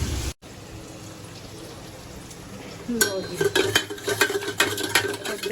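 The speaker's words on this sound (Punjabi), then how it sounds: "ਤੜਕਾ ਤੜਕਾ ਲਾ ਕੇ ਤੁਹਾਨੂੰ ਦਿਖਾਉਂਦੇ ਆ" A tadka tempering for an arbi (taro root) dish bursts into loud, close sizzling and crackling after about three seconds of quiet low hum, then keeps spitting and popping steadily to the end.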